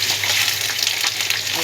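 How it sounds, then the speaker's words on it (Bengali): Spice paste goes into a hot pan where potatoes are already frying, setting off a loud, continuous hiss and sizzle with faint stirring scrapes and no speech. "এবারে মশলাটাকে আস্তে ছেড়ে দেবো।"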